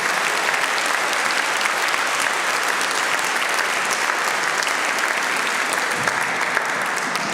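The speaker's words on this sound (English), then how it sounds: "Massive round of applause." A large audience at an evening awards ceremony gives a loud, sustained round of applause, thick, continuous clapping that holds steady throughout without a break.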